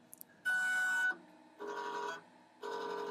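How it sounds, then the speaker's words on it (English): Laser cutter powering up and resetting itself, three separate electronic tones and whirs, each lasting around half a second, with pauses between, preceded by two tiny clicks. "watch the machine start up and reset itself"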